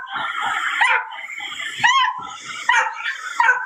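A distressed dog whimpers and barks in repeated bursts, high-pitched yelps and whines rising and falling up close, with no speech.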